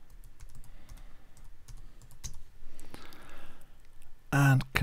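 Login details typed on a computer keyboard: bursts of quick close key clicks, a pause, then more tapping, ending in a louder clatter.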